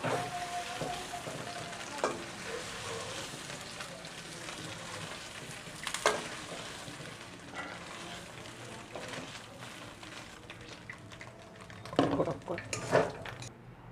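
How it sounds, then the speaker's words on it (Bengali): Paneer is lightly frying in a pan while it is stirred for palak paneer. A steady low sizzle runs throughout, with spoon scrapes and clinks against the pan, close and moderately quiet, getting busier near the end. "পনিরগুলো আমি হালকা ভেজে তুলে নেবো গরম জলে"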